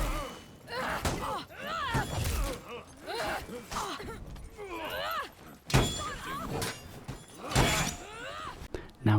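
In the video game For Honor, Afeera throws heavy attacks that land with sharp thuds and clangs, spread through a stretch of game combat noise while someone talks over it.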